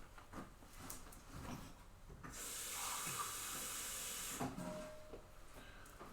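A kitchen tap runs into a pot filling with water for ramen, a steady rushing hiss that lasts about two seconds and then stops, with faint handling clatter before and after.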